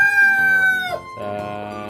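Rhode Island Red chickens around five months old on a farm, with a rooster crowing loudly up close in one drawn-out harmonic call, then a softer second cry and clucking.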